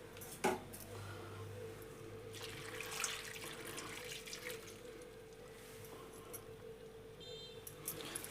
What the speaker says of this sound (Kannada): ಇವನ್ನೆಲ್ಲ ಇದ್ರಾಗ ಹಾಕಿ ನೀರು ಹಾಕಿ ತೊಳ್ಕೊತೇನೆ